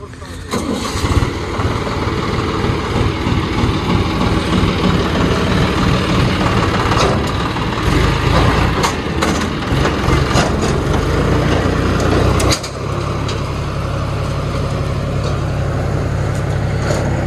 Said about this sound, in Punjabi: ਚੱਲਿਆ ਘਰ ਨੂੰ ਟਰੈਕਟਰ ਲੈ ਕੇ